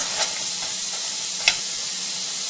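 Pork belly frying in oil over medium-low heat for Thai cooking, a soft continuous sizzle and hiss with two brief crackling pops, with no voices over it.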